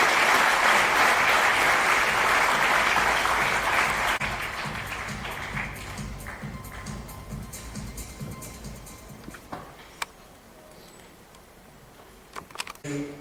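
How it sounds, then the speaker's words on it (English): Loud audience applause for a singer at an awards ceremony honouring achievers with disabilities, a dense burst of clapping that gradually thins and fades over several seconds, leaving a few scattered claps at the end. "a loud round of applause for this extraordinary singer"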